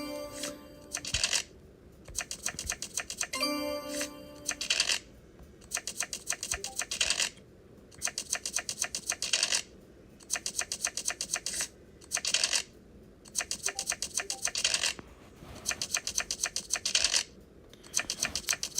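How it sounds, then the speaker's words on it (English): Digital card shuffling in a Ticket to Ride video game, rapid clicking riffle bursts repeating in short regular bouts with brief pauses between them, close and crisp. "Look at how much shuffling it's got to go through."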